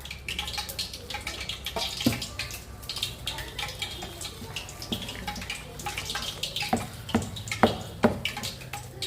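Water splashes into potato bonda batter in a bowl, with wet, uneven sloshing and squelching from mixing, some sharper drips and splats, fairly close and continuous.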